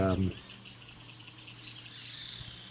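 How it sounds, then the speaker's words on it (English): Wild birds call quietly in a neotropical forest, faint high chirps and whistles repeating over a soft insect-like drone, after a brief low thump at the start. "Those are other birds you're hearing now."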